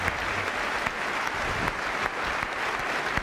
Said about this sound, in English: you're going to start clapping in about 9 seconds